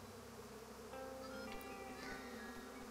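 Faint buzzing of bees in Psychonauts 2, a soft continuous insect hum with a few small game chimes, quiet and steady throughout.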